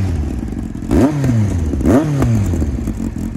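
Yamaha Fazer 1000 motorcycle engine revved twice, each blip rising sharply in pitch then sliding back down to a rough idle, loud and close with no voices.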